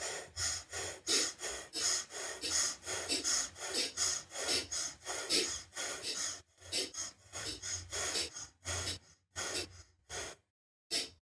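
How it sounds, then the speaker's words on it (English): Breath of fire in Kundalini yoga: quick rhythmic sniffs in and out through the nose, about two per second, close and clear, slowing into a few spaced breaths near the end. "It's just a rhythmic breath. Sniff in and out through your nose."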